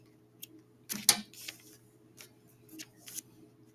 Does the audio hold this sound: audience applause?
no